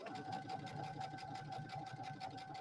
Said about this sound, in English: sew over it 3 times